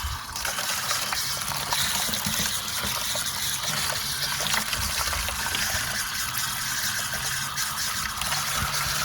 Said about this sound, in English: Look at that nasty water coming out already.